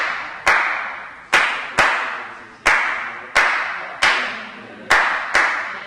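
Sharp hand claps beat out the Afro-Cuban clave, a three-then-two pattern of eight crisp, close claps with short gaps between the groups, heard alone with no talk.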